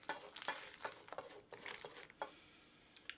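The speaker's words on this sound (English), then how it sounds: "Stir just a little bit longer." A spoon stirs thick cookies and cream pudding in a pot with quick, soft, close strokes, repeated scraping and light clinks, and a faint sizzle-like wash underneath throughout.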